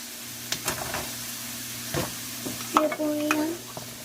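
Onions and carrots stirred and sizzling in a frying pan while making fried rice, with scraping stir strokes over a steady frying hiss and a few clattering utensil knocks near the end.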